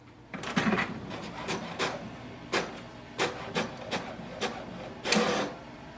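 An HP Smart Tank printer runs its automatic printhead cleaning cycle, giving a series of close mechanical clicks, whirs and short grinding bursts spaced irregularly over a quiet motor hum.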